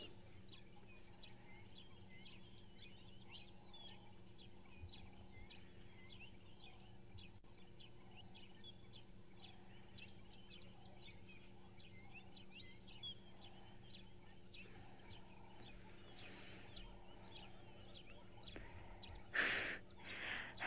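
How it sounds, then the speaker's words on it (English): Cape turtle doves, also called ring-necked doves, call at dawn on safari alongside other birds, a faint steady chorus of repeated chirps and coos with low background hum and a brief louder rustle near the end. "Over this overpowering sound of the Cape turtle doves, or what are they called now, ringneck doves"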